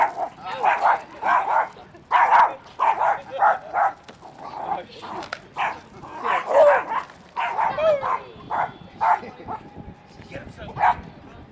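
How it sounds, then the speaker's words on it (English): Several dogs at an outdoor festival give a rapid run of yips and barks that goes on almost without a break, close and fairly loud, with crowd voices and talking mixed in. "Oh, Lots of dogs."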